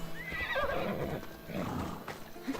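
A horse in Assassin's Creed Odyssey whinnies in a rising and falling neigh, followed by a snort, with a soft game-like background hum.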